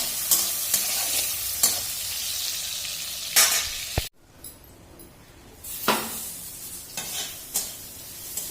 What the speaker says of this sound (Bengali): সয়াবিনগুলো একটু ভেজে নিচ্ছি